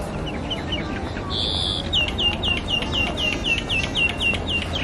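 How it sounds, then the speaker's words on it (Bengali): Birds singing at Dubai Miracle Garden: a bright, repeated chirping call in a quick regular series, fairly clear over a low outdoor background rumble, with a short sustained whistle-like tone in the middle. "পাখির সাউন্ড শুনতে পাচ্ছেন,"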